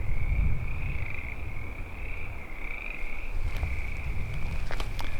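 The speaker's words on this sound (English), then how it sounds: "I can hear the frogs going like crazy" A chorus of frogs croaks steadily at a high mountain lake in a continuous pulsing drone, heard from a distance, with low wind rumble and a few faint clicks toward the end.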